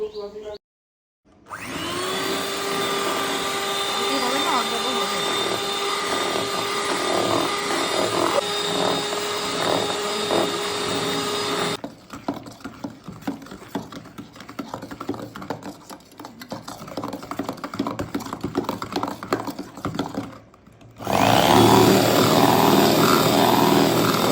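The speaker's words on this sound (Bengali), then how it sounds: "তারপর আমি আবার ব্লেন্ড করতে শুরু করে দেবো" Electric blender running steadily while mixing sponge cake batter for a fruit sponge cake, a loud continuous motor whir with a change in pitch partway through, then a stop and another loud burst of blending.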